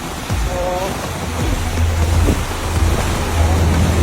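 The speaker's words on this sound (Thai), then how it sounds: "คลื่นแรงมากค่ะเปียกถึงเอวแล้ว" Strong sea waves crash and surge around people standing waist-deep in water during an outdoor reenactment, a loud, continuous roar with heavy wind buffeting the microphone and faint voices early on.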